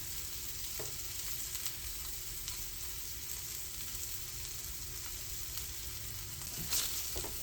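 Tortillas topped with cheese warm in a hot pan, making a soft, steady sizzle that holds evenly throughout, with occasional light shifting sounds and no speech.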